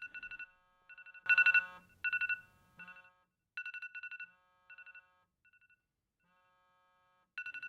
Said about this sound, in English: the painful sound of the morning alarm.